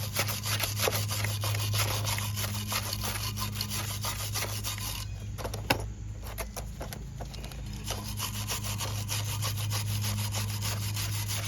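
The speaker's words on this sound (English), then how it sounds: "Wire brush all this. Make sure there's like no rust in there." Steady scraping of a wire brush scrubbing rust off a front brake caliper bracket on a Lincoln MKX / Ford Edge, close and continuous with a brief pause midway and a low hum underneath.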